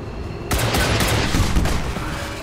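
Rockets fired and exploding in the video game XCOM 2 arrive as a sudden loud blast after a brief quiet lead-in, then roll on as dense, crackling rumble with repeated sharp hits.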